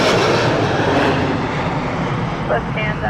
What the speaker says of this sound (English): There is a Dreamliner coming in.